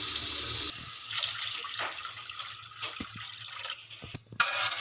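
Water splashes and trickles into a pan with field beans in uneven bursts, with small clinks and drips, close by and fairly quiet.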